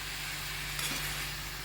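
Leafy greens cook in an iron wok with a steady, close sizzling hiss and a faint stir around the middle.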